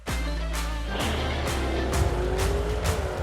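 A car does a tire burnout at the Buckskin Hills drag strip: a loud, sustained engine roar with rising revs and a tire squeal, close and continuous for several seconds.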